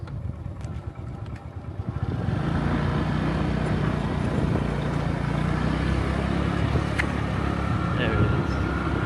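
A car engine drives steadily toward the grand entrance of a ghost town in Cambodia, its rumble close and constant after a quieter first two seconds, with voices talking over it.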